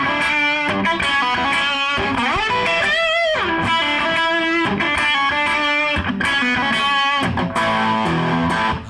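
Distorted electric guitar runs through the closing section of a solo, fast repeated picked notes and bends in a steady driving stream, loud and close for nine seconds with no speech.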